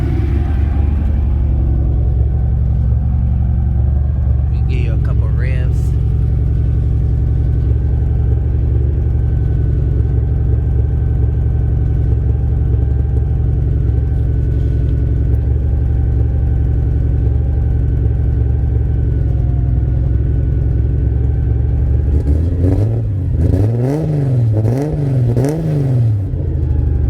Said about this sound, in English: We give you a couple revs.